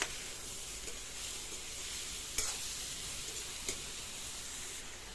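Chopped chilli is stirred into a simmering pot of Kumaoni bhatt, with a steady sizzle and hiss, soft scraping strokes and a couple of sharper clinks from the spoon against the pan.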